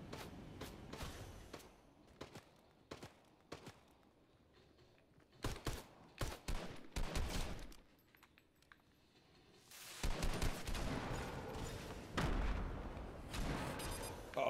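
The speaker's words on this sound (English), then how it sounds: "Oh, somebody's up here shooting at me." Gunfire in Fortnite: scattered single shots and short bursts crack through the first half, then denser, louder volleys of shooting crowd the latter part, with quiet gaps between.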